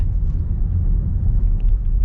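Inside a 2022 BMW iX xDrive50 electric SUV on the road in one-pedal driving, a steady low rumble of tyres and road noise drones on with no talk.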